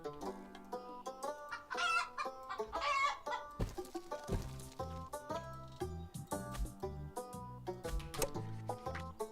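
Chickens cluck in the Terracards video game, a run of short bright clucks and calls set against rhythmic game music.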